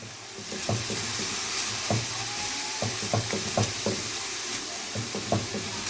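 Onion sizzles steadily in a hot pan with a constant hiss, while a spoon knocks and scrapes against the pan in irregular stirring strokes.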